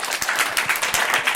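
An audience breaks into applause at a live talk show, a dense, steady wash of many hands clapping close by, lasting the whole moment without speech.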